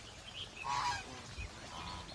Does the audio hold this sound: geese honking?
yes